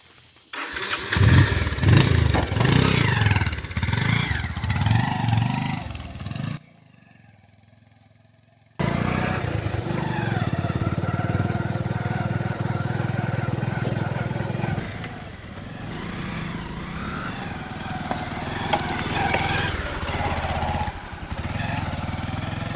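A motorcycle engine runs with a close, throbbing idle that cuts out briefly, then comes back as a steady mid-pitched drone for the rest of the time. People talk now and then over it.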